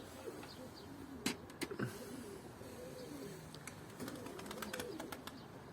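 Pigeons coo softly in a rooftop loft in Antalya, low repeated murmuring calls with a few brief wing flaps and clatters over a steady background.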